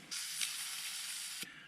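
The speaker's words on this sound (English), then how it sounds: "We just want to spray a little bit in this hole." Brake cleaner sprays from an aerosol can into a small hole in a Taurus GX4 pistol slide during an optic install, a single steady hiss lasting about a second and a half, close and fairly loud, with no talking.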